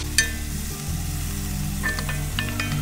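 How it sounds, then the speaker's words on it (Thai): Chinese bitter melon stir-frying with garlic and a splash of water in a hot pan, a steady close sizzle with a few scraping stir clicks near the end, no talking. "อันนี้เราจะต้องผัดมะระของเราให้สุกก่อนนะครับ"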